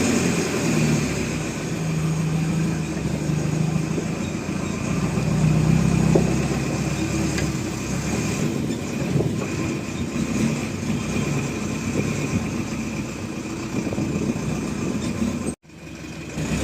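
A trailer truck running while hauling a Komatsu PC71 excavator, a steady loud mid-pitched engine drone with road rumble, heard from on board and continuous until a brief dropout near the end.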